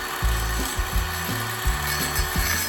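A wooden board being hand-sawn, with steady back-and-forth rasping strokes in a regular rhythm, loud and close, and no talking.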